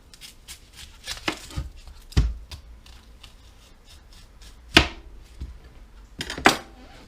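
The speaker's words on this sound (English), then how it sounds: "I'm going to start by cutting up the onions." Onions are cut into thick slices with a knife on a board, giving a few sharp chopping thuds and knocks among quieter scraping and handling noises, close by.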